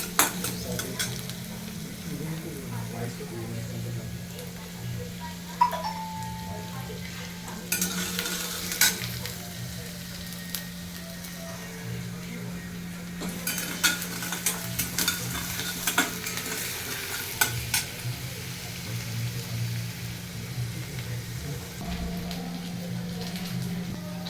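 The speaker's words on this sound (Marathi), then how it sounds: "तेल टाकू, त्यामध्ये गार्लिक टाकलेलं आहे आणि मग त्याला हलवायचं." Garlic frying in oil while being stirred for homemade pizza sauce, a continuous hissing sizzle with periodic louder bursts of spoon scraping against the pan over a long stretch.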